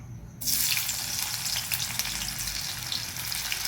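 Sliced onion fries in a pan over a medium flame, a loud, continuous sizzle starting abruptly after a quiet moment and carrying on close up, with occasional crackles and scraping stir sounds.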